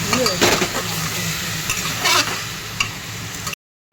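A stew seasoned with salt, turmeric and ground black pepper is stirred in a pot, with close scraping strokes of the spoon over a steady frying sizzle and an occasional clink against the metal.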